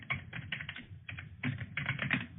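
Computer keyboard typing during a web element inspection lecture, keys tapped in quick irregular bursts with short pauses, moderately quiet and steady, with no voice over it.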